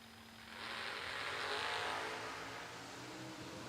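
At a drag strip, a Camaro and another race car launch, a loud engine roar rising quickly and then fading slightly as the cars pull away under steady crowd-like noise.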